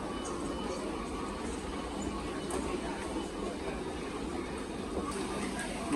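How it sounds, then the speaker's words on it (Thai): Bangkok subway train running underground, a steady loud rumble and hiss of the car in motion, continuous throughout with a faint voice underneath. "นี่จะเป็นรถไฟใต้ดิน"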